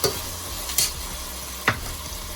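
Saltfish dropped into hot reddish oil, frying with a steady broadband sizzle and a couple of sharper stirring scrapes, close and fairly loud, no voices.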